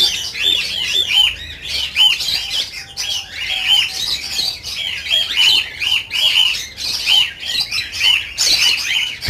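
Lovebirds and cockatiels in breeding cages keep up a dense, loud chorus of harsh squawks and shrill chirps, close by and continuous, with no voices heard.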